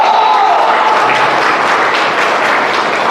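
A seminar crowd claps loudly and steadily, close, sustained applause that fills the whole stretch, with a voice faintly behind it.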